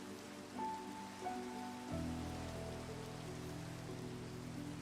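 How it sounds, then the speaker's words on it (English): Heavy rain in Minecraft falls as a steady hiss of dense drops, constant and fairly quiet, with background game music tones and no voices. "the rain really sounds very heavy"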